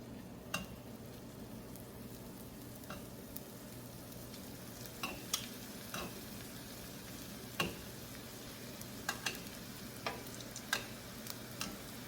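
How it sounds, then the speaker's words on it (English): IKEA-style Swedish meatballs browning in hot oil in a pan, a faint, steady sizzle with occasional sharp clicks of a utensil turning them. "the idea is to get these browned. They don't need to fully cook, we just want them browned."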